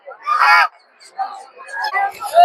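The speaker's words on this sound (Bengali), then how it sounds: "এদিকে প্রচুর পরিমাণে চীনা হাঁস আছে, রাজা হাঁস দেখতে পাচ্ছেন এদিকে।" Chinese geese honking at a busy livestock market at Gausia Golakandail haat: a loud, close burst of harsh honks, then softer scattered calls from several birds.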